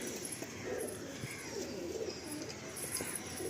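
A male loft pigeon giving soft, low repeated coos, close by and fairly quiet, with faint rustling and a few light clicks around it.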